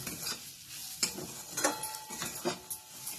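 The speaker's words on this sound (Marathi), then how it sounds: "रवा याच्यामध्ये चांगला भाजायचा" Semolina roasting in oil in a pan for upma sizzles softly while a spoon stirs and scrapes against the metal, with repeated sharp clinks and scrapes in an uneven rhythm, close and fairly quiet, with no voices.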